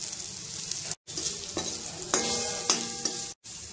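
Malabar spinach stirred into dal in a hot pan, with a spoon scraping and turning the leaves over a soft sizzle, a few distinct stirring strokes separated by brief pauses.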